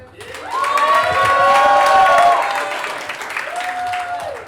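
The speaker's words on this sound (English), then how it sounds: "I want y'all to give all the comedians a round of applause." Crowd at a stand-up comedy tour show applauding and cheering for the comedians, a full, loud wave of clapping with whoops and shouts that swells and then tapers slightly.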